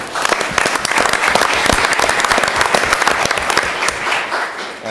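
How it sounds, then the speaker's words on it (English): An audience at a school board of education meeting breaks into loud, dense applause that holds steady for several seconds before starting to thin out. "That deserves a round of applause."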